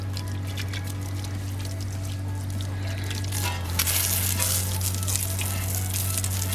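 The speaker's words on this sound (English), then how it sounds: "I have my own water coming right out of the car, and I can go ahead and rinse this wheel down" A steady spray of water from a car-mounted water supply rinses down a vehicle wheel, a continuous hiss and splatter with a constant low hum beneath it, no talking.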